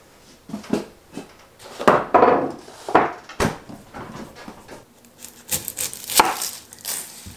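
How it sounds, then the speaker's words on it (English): An onion being diced with a knife on a cutting board, a series of close, uneven chopping thuds with short pauses between bursts, heard alone without talk. "So I'm just going to get some onion diced here"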